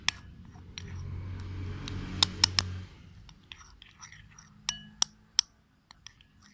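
A utensil clinks against a bowl while butter and a pinch of salt are mixed for sandwiches, with a soft smeary stretch followed by several sharp, bright taps, close and quiet.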